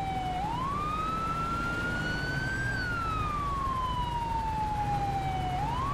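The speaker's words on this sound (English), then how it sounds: "Classic cop with the siren keeping it on." Police car siren in a cops role-play video game, a clear wailing tone that rises and falls slowly and continuously over a steady engine-like background.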